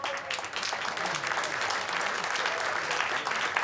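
An audience at a Cologne puppet theatre carnival show claps steadily, a dense even wash of applause that holds at one level from start to finish.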